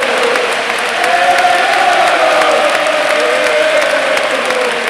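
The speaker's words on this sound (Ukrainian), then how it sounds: "Фани зустріли вихід гравця на поле аплодисментами та іменною пісенькою." Football fans in a stadium applaud steadily as a player comes onto the pitch during a Shakhtar versus Arsenal match, a dense, continuous wash of clapping from a large crowd with no clear talk.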